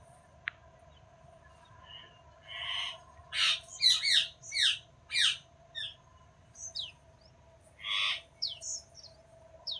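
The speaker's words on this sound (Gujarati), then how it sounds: "જો પોપટ આવી ગયા છે આપણી વાડીએ" Repeated harsh, squawking parrot calls on a farm in short bursts, some in quick pairs, over a steady low hum; fairly close and clear, with no one talking.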